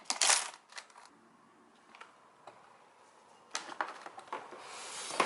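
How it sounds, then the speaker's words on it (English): Twistable colored pens clatter into a pencil case, with a burst of plastic clicks at the start and a cluster of rattling taps near the end, separated by quieter handling noises. "I think I'm gonna just load all of these into this pencil case here"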